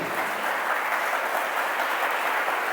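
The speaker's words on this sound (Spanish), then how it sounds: "un aplauso al Señor, porque Dios lo puede todo" A church congregation applauds together in a steady, fairly loud burst of dense clapping that fills the whole short stretch without any voices on top.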